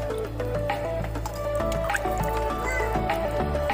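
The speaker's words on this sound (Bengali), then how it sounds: "জলের মধ্যে দিয়ে এইভাবে ধুয়ে নেব যাতে আঠাটা চলে যায়" Cut jackfruit pieces being washed by hand in a bowl of water, giving continuous close sloshing and squishing with small drips over a steady low hum, no talking.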